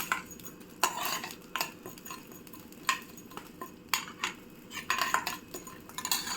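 Ingredients for a Telugu-style amaranth leaf (thotakura) and sesame powder curry are stirred and fried in a pan, a spoon scraping and clinking against the metal in repeated strokes over a soft background hiss, with no talking.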